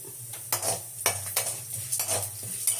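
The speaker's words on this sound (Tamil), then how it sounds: "கடுகு நல்லா பொரியுதுங்க" Mustard seeds and chana dal frying in hot oil in a home kitchen, with a soft sizzle and several light utensil clinks and scrapes against the pan, fairly quiet with a low background hum.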